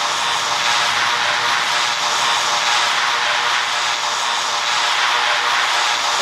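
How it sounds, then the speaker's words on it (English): Steady drone of a small Baron propeller airplane's engines during takeoff in the PTFS flight game, a continuous, fairly loud engine roar with no voices over it. "here is Baron flight 5491. Let's see if it's gonna take off and see."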